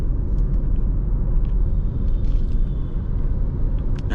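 A Hyundai Tucson accelerating on a highway gives a steady low engine and road rumble heard from inside the cabin, continuous and fairly loud, with no talk.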